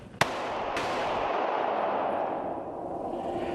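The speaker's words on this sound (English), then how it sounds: "That's the sound of a Glock 9mm with standard ball ammunition unsuppressed." Two sharp unsuppressed pistol reports from a Glock 9mm firing standard ball ammunition, the first loud and close, the second fainter, followed by a long rumbling echo that slowly fades.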